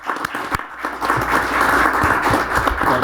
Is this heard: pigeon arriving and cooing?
no